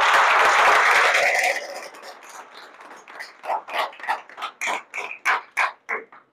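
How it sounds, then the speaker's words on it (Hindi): An audience at a Vestige training seminar in Hyderabad breaks into a dense burst of clapping that fades within a couple of seconds into a series of separate, rhythmic clap-like bursts. "तो आज आपकी जोरदार तालियों के साथ मैं हेल्थ के बारे में बात करने वाला हूं"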